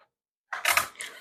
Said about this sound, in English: sorry for the noise on this styrofoam thing